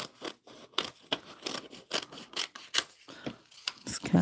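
Scissors snip through brown paper for a craft journal in a quick, irregular run of close, crisp cuts with small pauses, alone with no talking.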